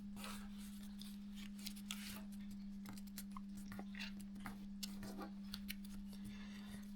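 A sheet of US letter paper is creased and folded into a Mercury paper plane, giving scattered soft crinkles and taps close by over a steady low hum.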